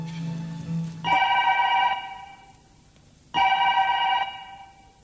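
Telephone ringing on a comedy stage, two clear electronic ring bursts about two seconds apart, each lasting nearly a second, close and loud, with a brief low hum before the first.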